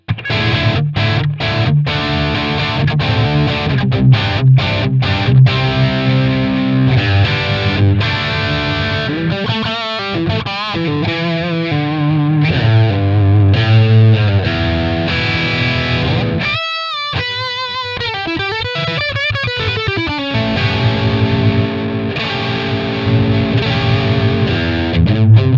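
Distorted electric guitar played through a Line 6 Helix with the low end boosted 12 dB below 300 Hz, heavy and bass-rich, with chugging rhythmic chords and sustained notes running continuously and loud, with no talking.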